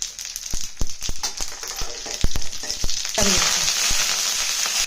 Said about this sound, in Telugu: ఇప్పుడు తాలింపు గింజలు ఎండుమిరపకాయి